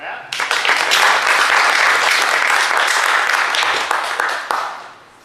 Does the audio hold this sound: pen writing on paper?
no